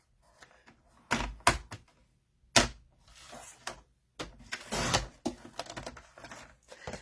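A paper cutter trims one inch off a sheet of cardstock. Several quick, sharp slicing and clicking bursts sound close by, with quiet pauses between them.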